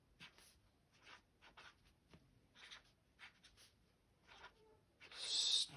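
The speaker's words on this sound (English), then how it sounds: "now we're going to write the word here, smaller stones" Pen or marker writing words on paper for a drawing, close and faint, with short scratchy strokes in irregular bursts and a louder rubbing flourish at the end.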